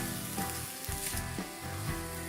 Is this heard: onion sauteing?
yes